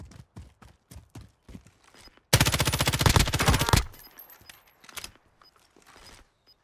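Automatic weapon fire in the Warzone shooter game: scattered single shots and footstep-like taps, then a loud sustained burst of rapid gunfire lasting about a second and a half, followed by a few more isolated shots.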